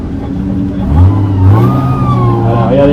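A vintage Riley car with a six-cylinder engine revs and runs close by at the start of a classic car rally, its rising engine note mixed with someone talking over it.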